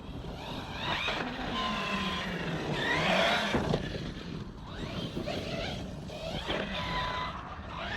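Team Corally Jambo RC buggy fitted with a new transmission ratio and huge wheels, running at a good clip: a loud, steady electric whine that swells and fades as it passes, with wind buffeting the mic and no talk.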